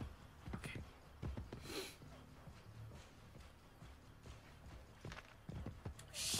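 A horse walks in Assassin's Creed Brotherhood, giving soft, quiet clip-clop hoofbeats in an uneven gait, with a couple of sharper thuds among them.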